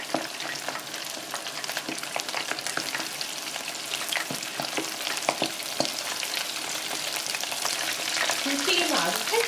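Flour-coated oysters deep frying in hot oil, a steady close crackling sizzle with scattered pops throughout and no talking.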